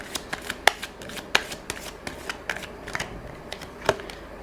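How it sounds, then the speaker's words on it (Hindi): Tarot cards being shuffled and drawn from a deck, a quick run of close, crisp flicks and snaps at an uneven rhythm, several sharper slaps standing out, with no talking. "नेक्स्ट कार्ड निकालते हैं।"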